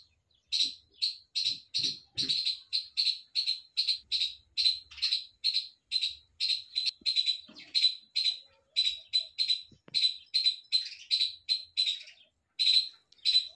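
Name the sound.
small birds chirping on a terrace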